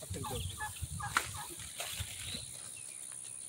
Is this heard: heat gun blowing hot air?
no